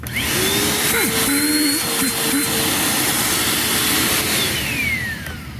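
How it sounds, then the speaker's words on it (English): A Bissell PowerForce Compact Turbo vacuum cleaner, found at the curb, runs continuously with a loud, steady motor whine and airy roar, and its pitch sweeps slightly; no talking. "So this is a perfectly working vacuum."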